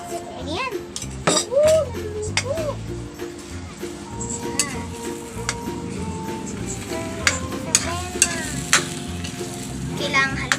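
Egg and tomato frying in a pan while being stirred with a utensil, steady sizzle under clinks and scrapes of metal against the pan, with a child and an adult talking over the cooking.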